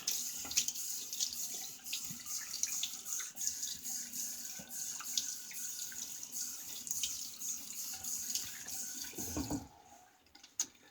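Tap water runs steadily into a sink for rinsing off after a shave with an early Wolfman razor, a continuous close splash that holds for nearly ten seconds before cutting off, followed by a brief clunk.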